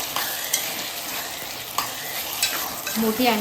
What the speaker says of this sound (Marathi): आता आपण टाकणार आहोत कोळंबी